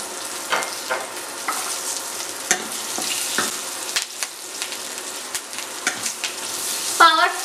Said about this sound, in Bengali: আমাদের বাদামগুলো ভাজা হয়ে গেছে এরপর আমরা আমাদের রাখা মশলাগুলো দিয়ে দিলাম